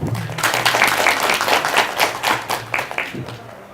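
Audience applause at a Korean career mentoring session, a burst of many hands clapping close by, fading toward the end.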